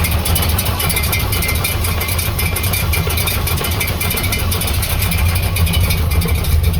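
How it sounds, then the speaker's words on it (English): A car with a custom exhaust idles steadily at a car show, a deep, throaty exhaust rumble, close and continuous with no talking. "Let's hear this custom exhaust."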